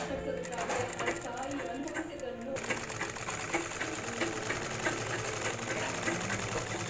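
A sewing machine runs margin stitching along a garment collar. The whirring, chattering motor buzz is loud and close and never stops.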